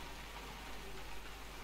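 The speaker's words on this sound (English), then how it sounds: "it's raining like mad out there" Rain falling in the fantasy video game GenZ, a faint, even, continuous hiss of downpour with no voices over it.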